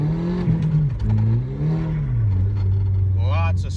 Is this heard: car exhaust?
yes